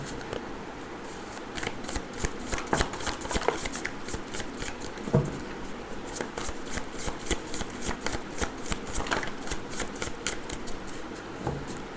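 A deck of tarot cards is shuffled continuously, with steady riffling and crisp flicks close by, no talking.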